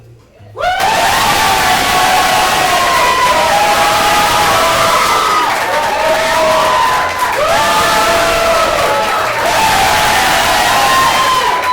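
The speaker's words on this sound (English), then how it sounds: "you are going to cheer the loudest for the person that you want to win" A comedy improv audience cheers, screams and whoops loudly to pick a winning contestant, bursting in suddenly and sustaining a dense roar of shouting voices for over ten seconds.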